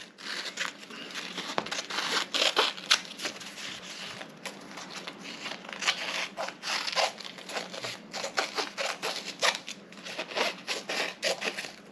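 Silver tape is cut down the middle for a soda can alcohol stove, giving close, busy crinkling and snipping with irregular rustles and clicks throughout, moderately quiet and without speech.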